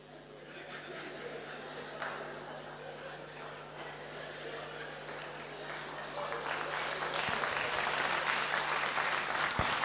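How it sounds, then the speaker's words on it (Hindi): An audience claps at a spiritual business talk, a sustained wash of applause that swells toward the end, with scattered chuckles and some talking beneath it. "मुझे अभी तक समझ में नहीं आया ताली किसके लिए बजा रहे हैं।"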